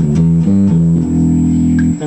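Gibson RD Artist bass guitar set for a Rickenbacker-like tone plays a short run of sustained, ringing notes, close and loud, with no voices.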